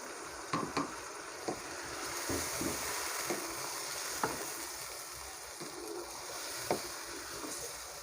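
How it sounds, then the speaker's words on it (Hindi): A spoon mixes chicken into biryani masala in a pot, with a soft steady sizzle and scattered light scrapes and clinks over about eight seconds, fairly quiet. "इसके अंदर चिकन डाल देंगे। और इन सबको अच्छी तरह मिक्स करेंगे चम्मच से"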